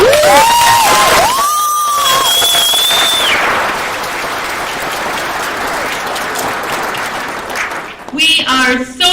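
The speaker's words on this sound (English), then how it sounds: "One more round of applause." Audience at a Physician Assistant hooding ceremony for the 2022 graduating class breaks into loud, sustained applause with cheering and whoops, shouts rising over steady clapping throughout.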